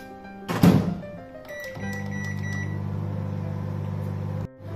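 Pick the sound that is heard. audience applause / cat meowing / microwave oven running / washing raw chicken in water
microwave oven running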